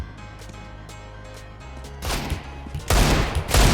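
Gunfire in the video game CS GO: a few quiet distant shots early on, then two loud, close bursts of rapid gunfire that crash in toward the end, with no talk.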